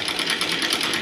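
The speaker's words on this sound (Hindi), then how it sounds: "तो ये कवर ऊपर वाले सिलाई करती हूँ पहले" A sewing machine stitches the top cover of a quilt in a brief, steady, rapid mechanical chatter, close and fairly loud, with no voices.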